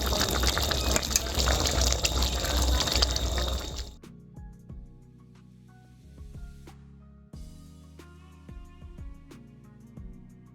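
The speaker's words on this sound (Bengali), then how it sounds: "সব শেষে দিয়ে দেবো এই যে সর্ষে" Mustard paste goes into a simmering Sitapati fish curry with a loud, wet, bubbling rush for about four seconds. It then drops to quiet, scattered clinks and light taps.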